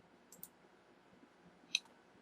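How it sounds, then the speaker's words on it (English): A computer mouse's middle button gives two faint, sharp clicks about a second apart in an otherwise quiet room, with no talking. "I'm clicking with the middle mouse button, by the way."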